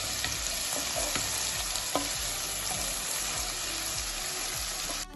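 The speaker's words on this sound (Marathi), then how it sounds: "नंतर त्यात हा भाजलेला कांदा, टाकून लाल होईपर्यंत चांगला परतवून घ्या।" Roasted onion fried and stirred in a pan until reddened for Maharashtrian baingan bharta: a loud, continuous close sizzle broken by rhythmic scraping strokes and one brief knock.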